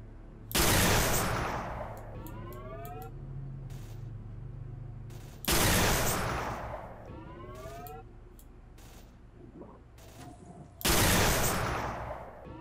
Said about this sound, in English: Three shots, three kills.